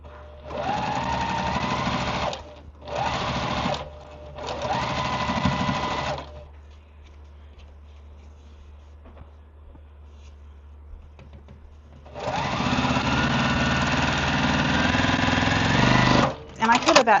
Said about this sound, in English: Now I'm going to sew on row 3, and then we'll go press all of those.